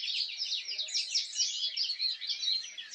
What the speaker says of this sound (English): they make plenty as a group, twittering like a choir of tenors warming up